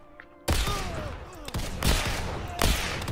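Burst-fire gun in a Roblox first-person shooter, several sharp loud bursts in quick succession after a quiet start, each followed by a short decaying tail.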